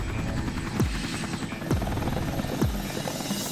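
A helicopter flies past with a loud, steady rotor thrum and engine whine, with rhythmic blade thumps sweeping by close overhead.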